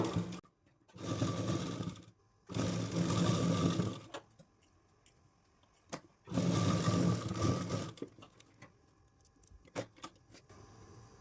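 A sewing machine runs a full round of stitching on a petticoat in three long bursts of steady whirring, separated by pauses filled with light clicks and handling noises.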